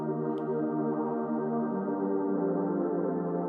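Sustained atmospheric choir pad in a progressive house break, a dense wash of stacked vocal harmonies held steady and loud throughout, alone with no talking.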